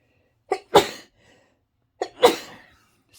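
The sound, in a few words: sneeze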